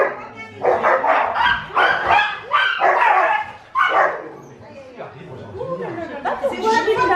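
Small chihuahua barking in quick high yapping bursts, close and loud, with people chattering over and between the barks indoors.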